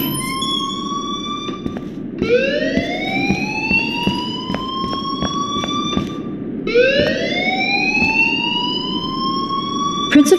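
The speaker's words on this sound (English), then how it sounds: "please turn off that alarm" Rising, wailing electronic school alarm from Life Is Strange, sounding in two long sweeping cycles over steady background noise, loud and continuous with a low murmur beneath.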